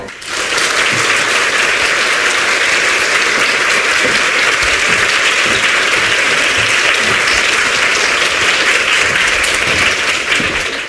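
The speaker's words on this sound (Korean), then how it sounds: "큰 박수로 모시겠습니다" Sustained applause from a lecture audience welcoming a speaker, loud and steady for about ten seconds before easing off at the end.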